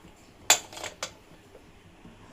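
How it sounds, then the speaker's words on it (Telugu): A metal pressure cooker lid comes off a cooled cooker while dondakaya curry is made, giving a sharp metallic clank followed by a softer rattle and a second clink, close and fairly loud in a quiet kitchen. "మూత తీసేసుకుందాం"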